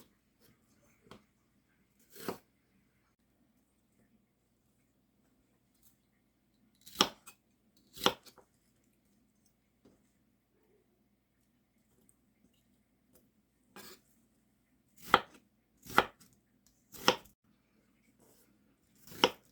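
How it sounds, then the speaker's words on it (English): A knife slicing an onion into thin slices on a cutting board, sparse crisp cuts in small clusters separated by long quiet gaps, close and fairly faint with no talk. "I'm just going to slice this into thin slices."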